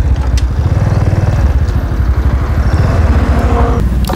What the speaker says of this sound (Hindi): इसकी इंजन की साउंड भी बहुत कम है